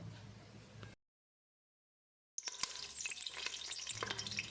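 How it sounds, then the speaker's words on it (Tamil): Cinnamon pieces, cloves, cardamom and green chilies frying in a pan for Muslim-style mutton biryani, a soft sizzle with stirring scrapes and clinks, cut by a sudden stretch of silence before the frying resumes. "2 துண்டு பட்டை, 4 கிராம்பு, 4 ஏலக்காய், 5 பச்சை மிளகாய், ஒரு 10-15 செகண்ட் இதை பெரட்டி விட்டுறலாம்"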